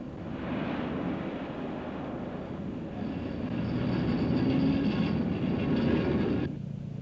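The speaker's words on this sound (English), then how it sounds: "The major portion of the concrete handled on the project was transported from the mixing plant by electric train." An electric train hauling concrete on the Hoover Dam construction site, a steady rumbling roar that swells slightly and then drops off near the end, with no voices over it.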